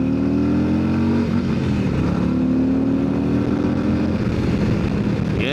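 A 2025 Harley-Davidson CVO Road Glide pulls hard in sport mode, its engine note loud and close, rising steadily in pitch through a continuous rev with a brief shift and then a climb again, and no voices over it.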